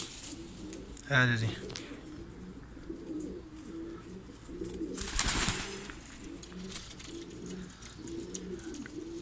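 Newly bought pigeons coo in low, steady, repeated rolls, with a brief sharp call early on and a short voice in the middle.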